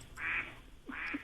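A cell phone ringtone imitating a duck plays two loud, nasal quacks about half a second apart, alone and close.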